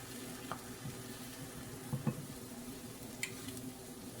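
Ripe fruit slices brown in a frying pan over medium heat, giving a soft, steady sizzle with a few faint clicks and scrapes of turning.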